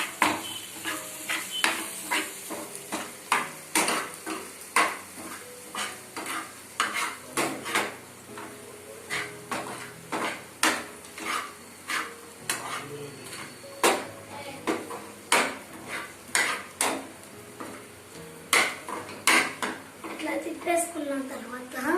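Onions with a spoonful of salt are stirred in a frying pan, a spatula clanking and scraping against the metal in a regular rhythm over a soft sizzle, close by, with a voice speaking at times.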